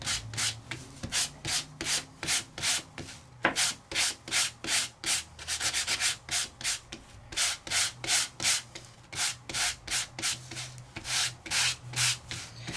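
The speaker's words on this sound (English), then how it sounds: "the sanding block that Sizzix has done is really great for paper" Rhythmic scratchy strokes of a sanding block rubbing over paper, close up, in quick repeated back-and-forth bursts with a brief pause now and then.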